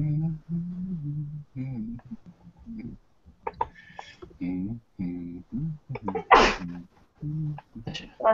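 One sharp sneeze breaks into people talking during a study session.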